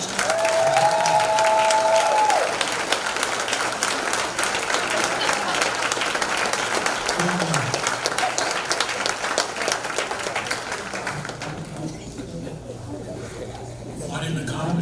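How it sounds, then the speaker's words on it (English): Audience applause at an athletic hall of fame recognition ceremony, a dense, sustained wash of clapping from a large crowd that fades slightly toward the end, with faint voices and cheers mixed in. "would you please give a round of applause for Miss Sanai Johnson?"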